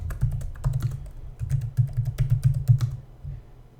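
Close-up typing on a computer keyboard, a quick irregular burst of light key clicks with a short pause partway through, fading into quiet at the end.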